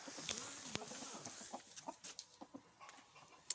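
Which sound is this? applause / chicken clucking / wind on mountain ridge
chicken clucking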